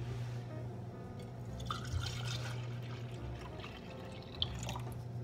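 Milk pours into a mixing cup for homemade cake ice cream, a quiet continuous trickle and dribble with a couple of small knocks, close and faint.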